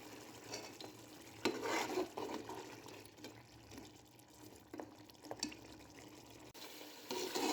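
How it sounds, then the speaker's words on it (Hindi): Beef pulao with tamarind water and green chilies being stirred and fried in a pot, with quiet sizzling and intermittent scraping and clinking stirs that are faint and uneven. "अब मैं इसकी करने लगी हूँ अच्छे से भुनाई"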